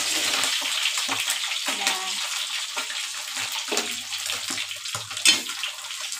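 Fish pieces fry in hot oil in a pan, a steady broadband crackle with watery bubbling throughout, broken by a few soft knocks and a louder clatter near the end.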